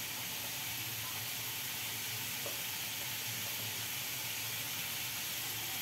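Garam masala being stirred in a frying pan for a Bengali cabbage dish, a steady soft sizzle and hiss running throughout with faint scraping, no talk.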